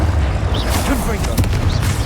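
Confringo blasting spell explosions in Hogwarts Legacy, several loud booming blasts in quick succession over heavy low rumble, with a person talking.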